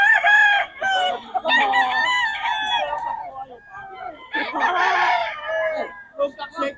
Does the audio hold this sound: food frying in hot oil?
no